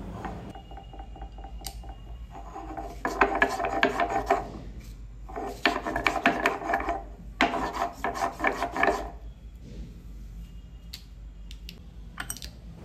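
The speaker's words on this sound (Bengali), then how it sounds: "এবার শিলবাটায় আমি কিছু মশলা করে নেবো।" Ginger, dried chillies and boiled tomato are ground on a shil-bata grinding stone, producing repeated bursts of coarse rasping and rubbing strokes, loud and close, separated by short pauses with no talking.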